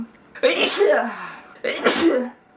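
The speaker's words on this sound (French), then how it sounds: "Éternuer dans votre coude." Two loud sneezes close to the mic, each a sharp breathy burst, separated by a short pause.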